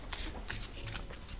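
Fortune-telling cards are shuffled close by in a quick run of crisp, rapid riffling flutters, with no voices.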